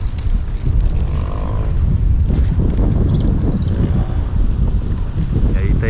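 Strong wind blows across the microphone outdoors in front of an old church in coastal Ceará, Brazil, a steady loud rush and buffeting that continues throughout, with a voice talking faintly underneath.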